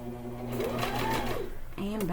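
A sewing machine stitches along a small fold of fabric with rice inside, a steady mechanical whir running close and loud under a spoken instructional voice, briefly pausing before restarting.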